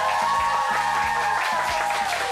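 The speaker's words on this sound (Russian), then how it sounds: "Итак, ваши овации заслужены победителю Алексею" Studio audience applauds the winner of a chef cooking competition show featuring Balkan recipes: a steady, dense wash of clapping with music playing beneath it throughout.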